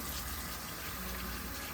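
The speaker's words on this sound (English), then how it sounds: "Wash my spoon off again." Tap water running steadily while a spoon is rinsed in a home kitchen during barbecue sauce making, a continuous close rushing gush with no talk.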